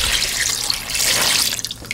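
Water poured over cockles being washed, a continuous close splashing and running stream into a bowl or sink, loud and steady before easing off near the end, no talking.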